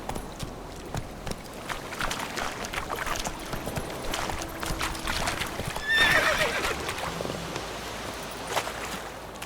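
Roach, the horse in The Witcher 3, gallops with a steady clip-clop of hooves over a constant outdoor bed, and a clear neigh rings out partway through.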